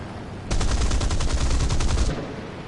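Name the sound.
Spitfire fighter aircraft engine and guns in a video game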